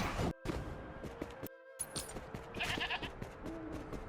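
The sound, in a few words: sheep bleating in video game Wuthering Waves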